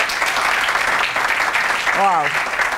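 An audience at a talk on global workplace culture applauds, a dense and steady round of clapping, with a brief voice sound rising out of it near the end.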